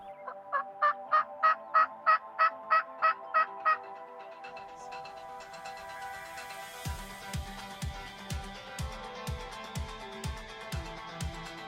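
Wild turkeys answer hunting calls near hay bales with rapid rhythmic gobbling. An early burst of evenly spaced bursts is followed by a lower, steadier run of gobbles, moderately loud with no talk.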